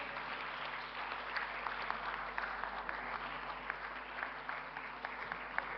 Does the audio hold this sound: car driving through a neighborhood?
no